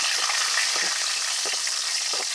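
Cashew nuts fry in melted ghee with a steady, fairly loud sizzle, broken now and then by spatula stirring scrapes, and no voices.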